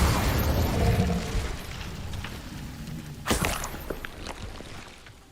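An Incendio fire spell is cast in Hogwarts Legacy, a loud whooshing burst of flame at the start that fades, then a sharp crackling flare near the middle tailing off into softer pops.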